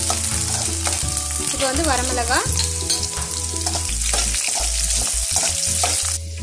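Garlic sizzles and fries in a generous pool of oil for a Tamil mint-coriander chutney, a loud continuous crackle with stirring clatter and a brief spoken word over it.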